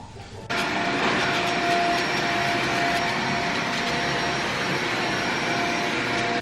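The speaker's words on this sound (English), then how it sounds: "All right, guys, now we're going to vacuum." A vacuum cleaner switches on abruptly and runs steadily at loud, close range over household floors, a constant whine and roar with no talking.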